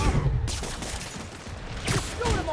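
Rapid gunfire bursts from the Spider-Man Remastered video game during a fight with the Kingpin, loud and dense at the start and again near the end, mixed with game music and effects.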